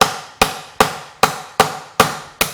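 Seven evenly spaced sharp cracks of a hammer or knife back striking a crab claw shell, close and loud with a quick decay between blows, a steady rhythm roughly every 0.4 seconds and no talking.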